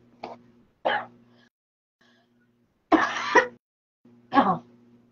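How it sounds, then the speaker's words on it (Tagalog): Several separate bursts of coughing and throat clearing, close and fairly loud, spaced with short pauses over a low steady hum. "Hinuubo-ubo ako."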